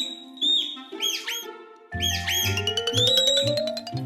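Soft high-pitched twittering and squeaky chirps from a red panda in short bursts, some rising and falling, over a low droning background, close and fairly clear.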